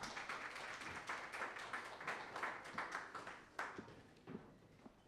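Scattered clapping from an audience at a panel discussion on journalism and political communication, a crisp patter of hands that rises and thins out over a few seconds, fairly quiet and without any talk over it.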